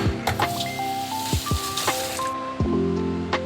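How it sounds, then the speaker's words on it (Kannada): Eggless rava cake batter pours into a pan, giving soft, irregular wet plops and squishy drips, close up and fairly clear, several separate blobs landing over a few seconds. "ಈ ಮಿಕ್ಸ್ಚರ್ನ ಪೋರ್ ಮಾಡೋಣ, ಈ ಬ್ಯಾಟರ್ನ ಹಾಕೋಣ"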